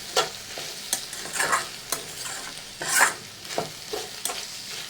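Brinjal curry frying in a pan, a soft sizzle broken by several close scraping stirs of a spoon against the pan at irregular intervals, with no voices.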